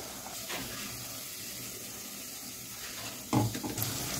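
Onion and potato bhaji frying in hot oil, a steady soft hiss with a sharper crackling burst near the end, no voices.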